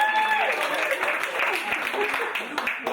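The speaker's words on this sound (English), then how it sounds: "Big round of applause for them, ladies and gentlemen." A live design game show audience in a bar breaks into steady applause and cheering that carries on for the full stretch, dense and close with no let-up.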